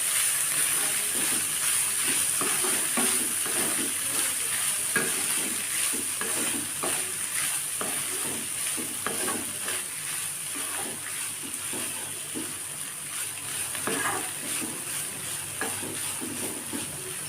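Red poha upma stirred in a pan over a low flame: a soft, steady sizzle with repeated scraping strokes of a spoon at a regular pace, close by and alone.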